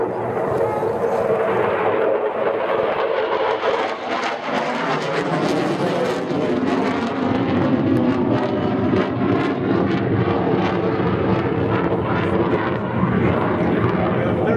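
Eurofighter Typhoon FGR-4 jet making a fast final pass at about 450 knots at the East Fortune airshow, a loud sustained roar that swells and shifts as it passes.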